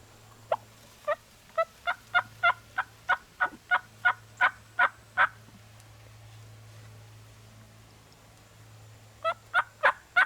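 A wild Osceola turkey gobbler in Florida gobbles in a long rapid series of sharp calls, pauses, then calls again, moderately close over a low steady hum.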